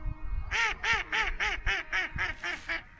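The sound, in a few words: ducks quacking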